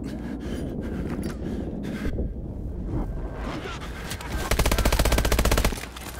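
Gunfire in the Call of Duty: Advanced Warfare campaign, a rapid automatic burst near the end running for about a second, loud and close, after scattered lower shots and rumbling battle noise; a voice speaks faintly underneath.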